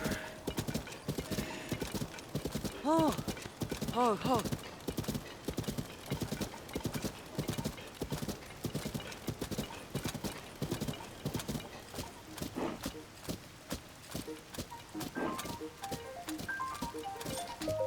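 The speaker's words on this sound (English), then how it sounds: "That horse. It's even bigger than I imagined. The widely rumored giant stallion." A giant stallion in Zelda: Tears of the Kingdom clops along with steady, close hoofbeats throughout, broken by a couple of loud, shrill neighs near the start, over a busy game soundscape with music.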